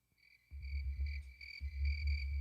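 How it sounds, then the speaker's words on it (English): Crickets chirp in a steady, repeating high trill, with soft low thumps beneath, as a sound effect. "Cue the crickets."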